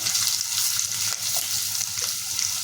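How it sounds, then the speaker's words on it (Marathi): Curry leaves and turmeric frying in hot oil for a cheese-bomb vada pav filling, giving a steady, close, loud sizzle with crackling bursts that runs throughout, with no talking. "आता ह्याच्यामध्ये कढीपत्ता टाकूया हळद टाकून घेऊया"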